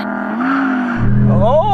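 A 620 hp Audi R8 GT race car idles with a steady rising hum, then launches off the line in a drag race with a sudden, louder engine roar that swells and revs upward.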